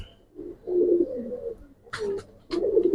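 Pigeons offered for sale, including racer pairs and fantail-type birds, coo in soft repeated bursts close by, with a few sharper calls in between and no talk over them.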